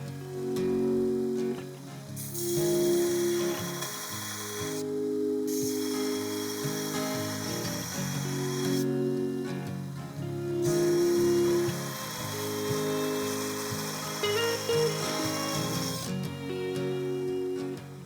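Bench grinder working on metal shelf brackets, a loud steady whine with a few bursts where the tool bites harder, continuous for the whole stretch with no talking.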